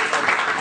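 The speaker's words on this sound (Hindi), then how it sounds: "जरा सम्मान से तालियां" An audience applauds at an evening poetry gathering, a brief, loud, dense burst of clapping filling the moment.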